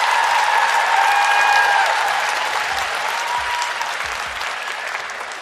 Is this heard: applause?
yes